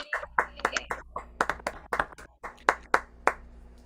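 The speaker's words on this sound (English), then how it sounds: "let's have a round of applause for Linish" A few people clap for a performer at an inclusive variety show, sparse uneven handclaps close to the microphone, with no talking.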